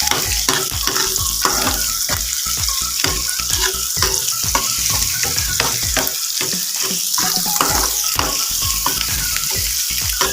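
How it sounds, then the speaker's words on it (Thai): Constant loud sizzling with rapid scraping and clattering of a utensil against a pan, as coconut and egg are stirred and fried nonstop. "เราต้องพยายามคั่วมันเรื่อยๆนะครับผม ไม่งั้นเดี๋ยวมันจะติดกระทะนะครับ"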